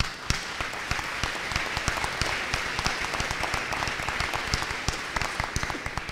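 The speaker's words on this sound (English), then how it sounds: "So I'd like to give an applause for the parents first." An audience at a graduate hooding ceremony applauds the parents, many hands clapping in a dense, steady, fairly loud burst that holds through the whole stretch.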